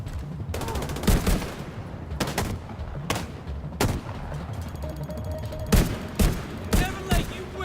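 Repeated bursts of gunfire from Tom Clancy's The Division 2 crack out in sharp clusters through a noisy firefight, with several loud shots spaced a second or so apart over a steady rumble of battle.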